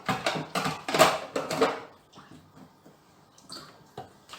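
Water pours from a water ionizer fitted with a double carbon antibacterial filter and platinum-plated titanium electrolytic plates, splashing in bursts during the first two seconds, then fading to soft trickles and drips.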